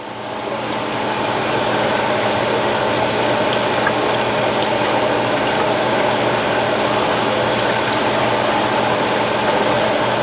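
Beef broth pours steadily into a pot for French onion soup, giving a continuous, even liquid rush that holds at a loud level throughout.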